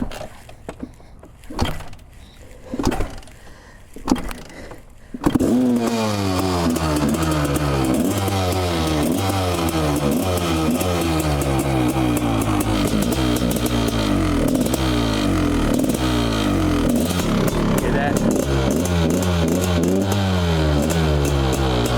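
After a few knocks and rustles, a two-stroke dirt bike engine on a gas and two-stroke oil mix fires up and idles loudly and close, with a rapid, uneven burbling putter and occasional revs, alone without talk.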